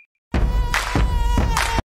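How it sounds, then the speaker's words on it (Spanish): Mosquito buzzing close by, a steady high-pitched whine that swells and fades in waves for under two seconds, loud and alone. "No te la pases intentando matar a los mosquitos."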